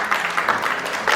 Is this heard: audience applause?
yes